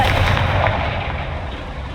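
A Confringo fire spell blasts in Hogwarts Legacy, a loud, dense burst with a deep rumbling low end that holds steady and slowly fades over a couple of seconds, with no talk over it.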